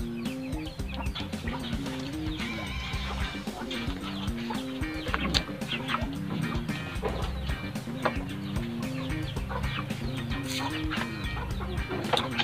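Breeder chickens cluck repeatedly in a pen, producing a busy overlapping chorus of clucks with occasional sharper calls, close and continuous.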